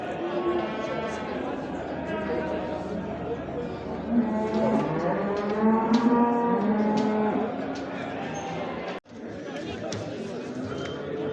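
Sheep bleating and livestock lowing amid a busy market crowd at the Göksun livestock market in Kahramanmaraş, Turkey, with people chattering throughout and a brief break near the end.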